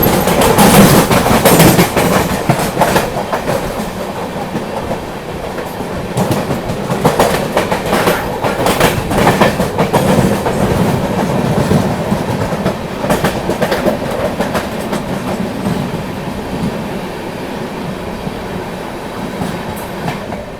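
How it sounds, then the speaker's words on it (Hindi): A passenger train on the Brahmaputra Mail route nears Pandit Deen Dayal Upadhyaya Junction in India, with steady loud rumbling and rhythmic clickety-clack of wheels over rail joints heard from inside the carriage for the whole stretch. "तो अभी अपनी ट्रेन बस पहुंचने वाली है पंडित दीनदयाल उपाध्याय जंक्शन"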